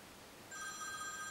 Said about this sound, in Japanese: 電話かかるよ。